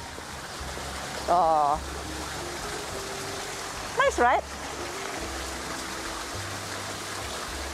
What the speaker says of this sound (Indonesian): di sini ada kayak semacam air terjun buatan.